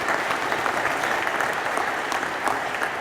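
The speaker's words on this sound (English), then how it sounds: "give Shane a round of applause as well" A concert audience claps loudly and steadily at a 40th anniversary concert of Castletown Geoghegan Comhaltas, dense sustained applause filling the room with no voices over it.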